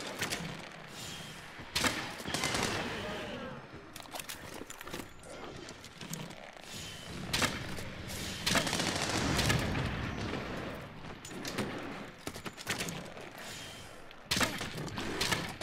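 Repeated bow shots and impacts in a Monster Hunter: World beta hunt, a dense run of loud sharp hits and booms across the whole stretch, with brief pauses between bursts.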